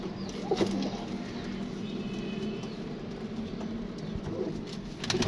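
Pigeons cooing at close range, with soft repeated coos over a constant low background hum, fairly faint overall and with no voices.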